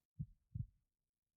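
A heartbeat sound effect plays during a tabletop fantasy role-playing session, two soft, low thumps about a third of a second apart, faint and alone with no voices.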